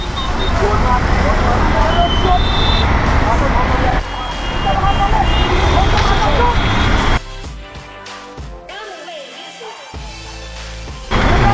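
Jammed road traffic in a city street, heard from a motorcycle, makes a loud, continuous roar of engines and road noise that abruptly drops to a quieter, thinner stretch before swelling again at the end.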